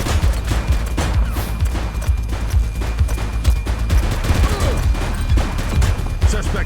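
Dense gunfire in the police open-world game The Precinct, rapid overlapping shots in a loud continuous barrage with voices briefly breaking through.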